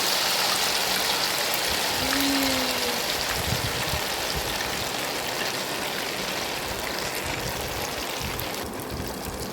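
Kesar malai ghevar batter frying in hot oil, a loud, dense and continuous sizzle that stays even from start to finish.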